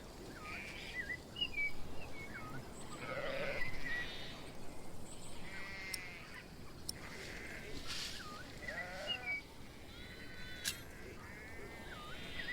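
Sheep in a flock bleat in scattered, wavering calls amid chirping birds outdoors, fairly faint and moderately distant, with no clear talk.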